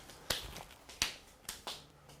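A palm slaps the back of the other hand during a health-clapping exercise, giving four sharp, quiet smacks at uneven intervals, with no voices.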